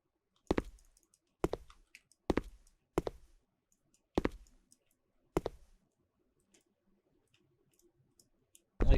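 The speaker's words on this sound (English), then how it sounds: "Clicking on basically everything." Sharp, distinct computer mouse clicks during play of the one-shot game Freedom Of Choice, six close clicks spaced about a second apart, then a quiet stretch and one final click at the end, with no talking.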